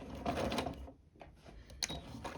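A sewing machine runs in short, halting bursts while stitching a balloon sleeve cuff, with mechanical clicks and a brief pause in the middle, fairly quiet and close by.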